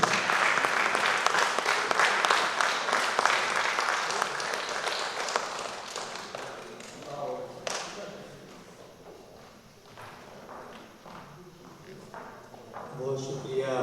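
A crowd at a poetry gathering (kavi darbar mushaira) applauds in a dense, sustained wash of clapping that gradually thins, with voices talking over the tail.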